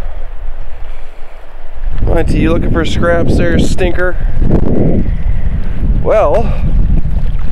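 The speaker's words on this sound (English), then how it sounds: "it's pretty windy" Strong wind buffets the microphone steadily outdoors in open wilderness on a chilly day, a continuous low roar throughout, with someone talking over it to his dog Monty.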